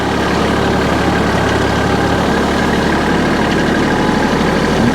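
A farm tractor engine runs steadily at about 1,300 RPM, a loud, close, continuous rumbling drone with no talk over it.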